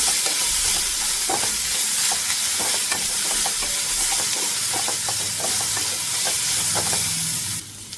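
Chicken filling with pepper and spices is stirred in a pan, giving a steady close sizzle with scattered light taps and scrapes of the spoon throughout.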